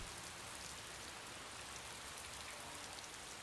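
Steady, even rain falling in a hushed wash of noise, constant throughout with no voices or other sounds.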